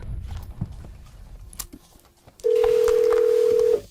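A phone in an office-style drama places a call: a few soft clicks and taps, then a loud steady dial tone that holds for over a second and cuts off, with no talking.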